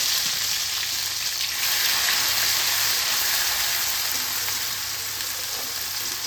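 Steady, loud sizzling of crushed garlic frying in hot oil, continuous and close, with no voices.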